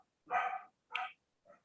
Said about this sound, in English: Just ignore the puppy.